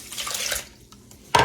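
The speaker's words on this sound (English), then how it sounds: "I'm gonna put in 1 cup of water." A cup of water poured into a pot of grits, a short splashing trickle that fades into quiet drips, then a sudden loud splash at the end.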